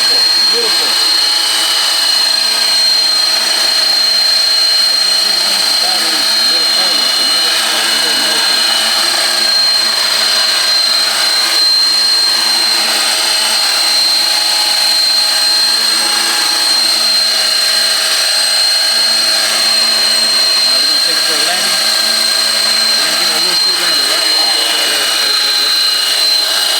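A 3D-printed 450-size RC Sky Crane helicopter flies with a steady, loud high-pitched whine of rotor and motor that holds unbroken for the whole stretch, with faint talk and background noise underneath.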